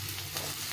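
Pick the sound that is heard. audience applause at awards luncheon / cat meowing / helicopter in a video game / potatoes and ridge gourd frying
potatoes and ridge gourd frying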